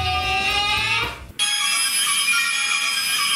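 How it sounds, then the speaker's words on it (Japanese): A telephone rings with a bright electronic ringtone, a melodic pattern followed by a sustained, shimmering ringing tone, loud and close with no talking. "ほら、電話かかってきたよ。"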